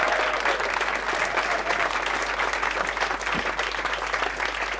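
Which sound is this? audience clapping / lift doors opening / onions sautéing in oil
audience clapping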